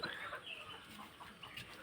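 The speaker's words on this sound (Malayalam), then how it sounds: "ഇവർ ബി ബി ത്രീ എയ്റ്റി ഇനത്തിൽപ്പെട്ട കോഴികളാണ്" BV380 breed laying hens cluck and murmur softly at a distance, a faint, continuous chatter of farm fowl with no one speaking.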